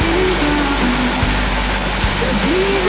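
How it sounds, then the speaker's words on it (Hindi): Heavy rain falls outside a balcony as a dense, steady hiss close by. A faint tonal voice drifts over the downpour. "क्या बारिश हो रही है 2 दिन से भाई, जो बारिश हो रही है"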